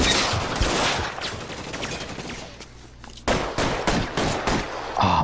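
Gunfire in a shootout in L.A. Noire, with dense rapid bursts of shots and scattered single cracks, loud and close, pausing briefly before another volley of shots.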